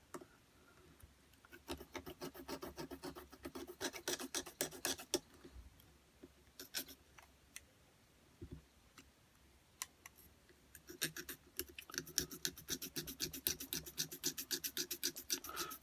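Rhythmic rasping of a small hand saw cutting a plastic Gundam model kit part, in bursts of quick back-and-forth strokes with brief pauses between.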